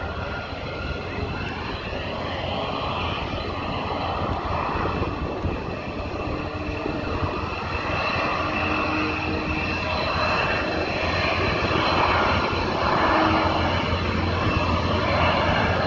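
Aircraft engines roar loud and close on the tarmac at the Barksdale Air Force Base air show in Shreveport, Louisiana, a steady broad jet and propeller rumble that swells toward the end, with no talk over it.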